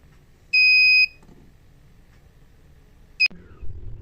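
An Arduino Uno gas leak detector's buzzer gives one loud, steady electronic beep of about half a second, then a much shorter chirp follows near the end, alone in a quiet room.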